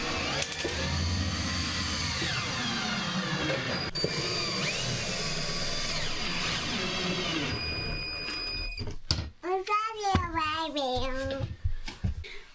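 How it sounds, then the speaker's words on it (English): A power drill whirs in short bursts, driving screws into sheetrock during a home renovation, the motor revving and winding down repeatedly. Children's high-pitched voices chatter near the end as the drilling stops. "Cody's getting the last of these screws put in"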